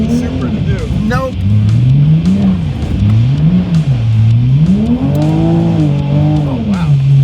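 A Toyota Supra is driven hard off-road, its engine revving up and down in repeated surging sweeps with loud, close exhaust, while people talk over it.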